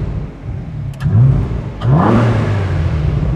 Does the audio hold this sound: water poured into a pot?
no